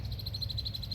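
Green frogs call at a marsh with a quick, evenly spaced series of bright twangy notes, soft and somewhat distant over a low background rumble.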